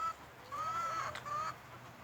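A chicken gives a few short, tonal clucks and calls in a quiet outdoor setting, fairly close, with soft background noise between them.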